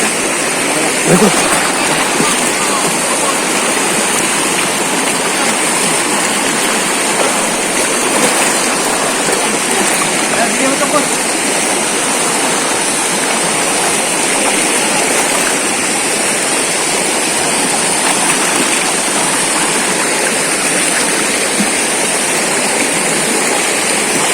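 A strong river current rushing over slippery rocks in General Nakar, Quezon, producing a loud, steady, unbroken roar of water close by.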